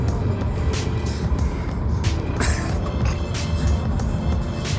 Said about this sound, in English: We're in the car now and we're driving back.